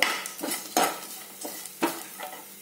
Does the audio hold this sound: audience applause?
no